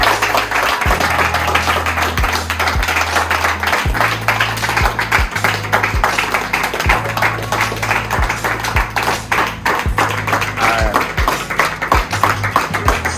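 Sustained clapping from a small group of people welcoming a delivery of donated tools, dense and steady throughout under a continuous low droning hum.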